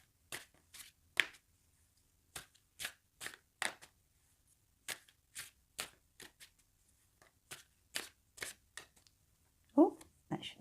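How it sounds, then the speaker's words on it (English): A deck of Wild Unknown-style tarot cards being shuffled by hand, a series of separate crisp riffles and card slaps in an uneven rhythm, close and fairly loud, with quiet gaps between bursts. "we'll give the cards a good shuffle"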